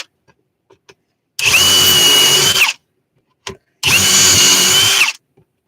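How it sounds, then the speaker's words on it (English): A power drill boring a pilot hole into a wooden block for a machine base, heard as two loud, close bursts of whirring and grinding about a second and a half each, separated by a short pause with faint handling clicks. "I just didn't get a pilot hole drilled in the other hole"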